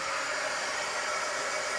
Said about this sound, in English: let me get my dryer